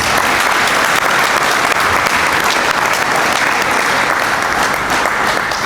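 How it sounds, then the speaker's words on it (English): A loud, dense round of applause from a book-launch audience honoring author Tyrone Smith fills the space evenly and steadily from start to finish, with no break. "Can we give Tyrone a round of applause?"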